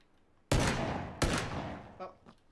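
Two sharp, loud gunshot blasts from the video game PUBG, each followed by a decaying reverberant tail, with faint clicks after the second shot.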